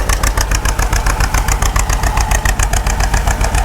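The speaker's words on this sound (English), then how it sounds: "Here we got another one of the Deeres. '48 John Deere B." A 1948 John Deere B tractor's engine runs steadily in a loud, close, even chugging rhythm of rapid regular beats, with no voices over it.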